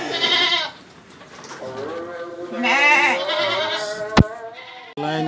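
Sheep and goats bleat at a small livestock trade pen, several wavering calls one after another, close and fairly loud, with brief pauses and a sharp knock near the end.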